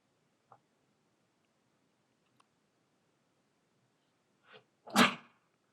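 A single sneeze lands near the end of a quiet classroom stretch during a dynamics lecture, sharp and fairly close, preceded by a few faint clicks and a soft rustle.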